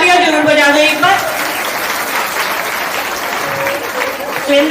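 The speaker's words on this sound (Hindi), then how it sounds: "उनके लिए तालियां जरूर बजा दें एक बार।" A crowd at a Hindu temple kalash procession gathering claps, with a voice over it at the start and a brief snatch of speech again near the end.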